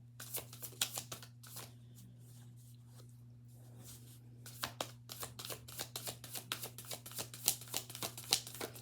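A deck of tarot and oracle cards is shuffled by hand, giving repeated crisp riffling bursts over a steady low hum, with a brief quieter pause before the shuffling picks up again and grows denser.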